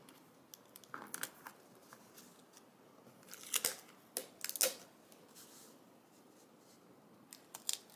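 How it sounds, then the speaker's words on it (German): Tesafilm adhesive tape is pulled and pressed down to stick a photo in place, heard as scattered close, crisp crinkles and short tearing snaps in clusters over quiet. "Ich klebe das jetzt einfach mit Tesafilm"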